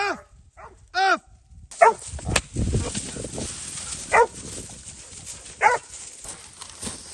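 A dog barks in several sharp bursts, some close and loud and others spaced apart, with rustling, handling noise and a burst of wind between them.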